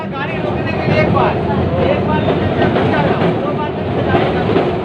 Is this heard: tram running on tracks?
yes